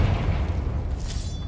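A Confringo spell explosion in the Hogwarts Legacy video game: a deep, loud booming rumble that fills about a second and a half without letting up, with no voices.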